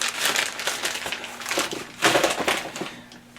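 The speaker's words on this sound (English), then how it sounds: "if I take that out of the box and out of the packaging" A new upper ball joint for an AMC Eagle being pulled from its cardboard box and plastic packaging, loud close crinkling and crushing in dense bursts, with no talking.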